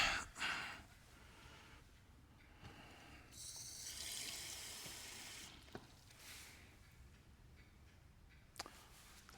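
Tap water briefly runs into a measuring cup while making cashew chicken, a soft faint splash near the start and again around four seconds, with quiet kitchen handling between.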